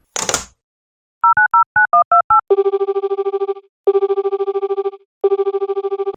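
A short noisy burst, then a quick run of dialing beeps, followed by three repeated ringing tones on a phone line.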